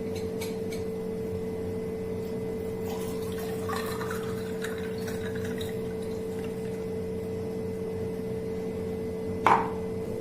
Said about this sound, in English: Now add this drink to it.